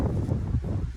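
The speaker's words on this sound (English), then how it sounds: "we're still getting like maybe 20 to maybe 30 mile an hour winds, a little bit higher with the gusts" Strong gusty wind of roughly 20 to 30 mph buffets the microphone outdoors, a steady loud low roar with no voices.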